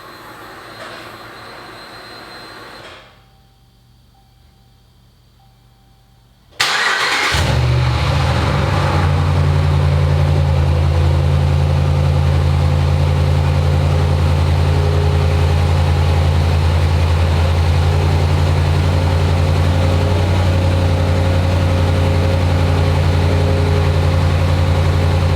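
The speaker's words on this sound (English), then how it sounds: "we'll start it up here and run it a little bit, just so we can listen to that engine" A 2018 Ram pickup engine, about 65,000 miles on it, cranks and catches after a brief quiet spell, then settles into a loud, steady idle with a deep rumble that holds unchanged to the end.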